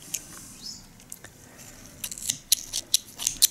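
Scissors snipping knitting yarn after knitting an alpine beanie, with a few quiet, sharp metallic clips that come close together near the end over a faint background.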